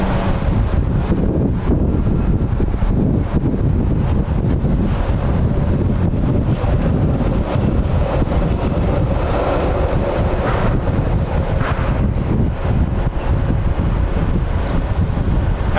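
Steady, loud wind buffeting the microphone outdoors at Phoenix Sky Harbor airport, a continuous roaring rush with gusty swells and no talk.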